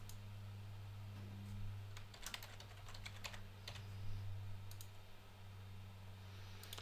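Rapid keystrokes on a computer keyboard while a name and password are entered, arriving in quick irregular bursts of close clicks with short pauses between, over a steady low hum and no talking.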